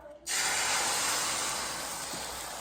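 Sausage sizzles in a hot pan with a loud, steady hiss that bursts in suddenly and holds evenly throughout, close by, with no talking.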